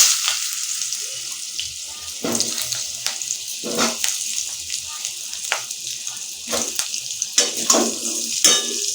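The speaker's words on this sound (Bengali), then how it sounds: "আলুটা ভেজে নেব।" Potatoes fry in oil in a pan while a Bengali katla fish curry is being made, a thin continuous sizzle broken by several sharp clanks and knocks of utensils against cookware.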